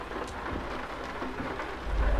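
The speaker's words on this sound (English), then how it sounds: "And it is a rainy day." Rain falls during a drive in the American Truck Simulator game, a steady soft hiss of drops with low rumbling underneath that swells near the end.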